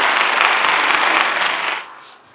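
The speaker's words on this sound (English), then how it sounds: "Natural applause, please." Dense, steady clapping from a summit audience, loud and continuous before quickly dying away into near silence at the end.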